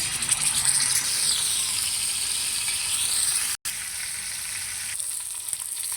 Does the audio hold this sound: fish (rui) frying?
yes